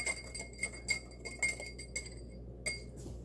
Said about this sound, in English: And whisk that a little bit more.